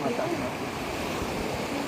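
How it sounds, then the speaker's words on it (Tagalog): Rough, steady wash of surf with wind rumble, continuous and fairly loud throughout, no clear breaks between waves. "Ang bilis ng alon."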